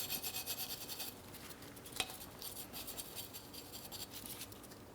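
Wire brush scrubbing a brake line fitting and its mounting bracket on a 2015-2025 Ford Transit 250 rear brake, a steady close scratchy rasping with one sharp tick midway, no voices.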